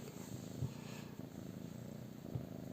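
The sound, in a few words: cat purring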